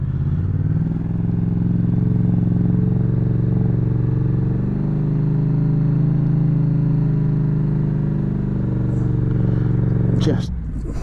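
A 2016 Yamaha FZ-07 middleweight motorcycle engine idling steadily and loud up close for about ten seconds, then cutting out, followed by a short clatter near the end.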